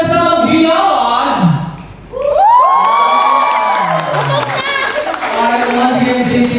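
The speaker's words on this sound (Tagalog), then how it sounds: "How about we start this lovely program with a big round of applause?" A crowd at a birthday party celebration cheering, whooping and shouting with clapping, loud and sustained, rising sharply after a brief lull, with a host's voice talking over it at the start.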